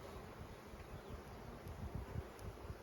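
Honeybees buzz in a soft, continuous hum during an open hive inspection, faint and close, with light rustling and no talking.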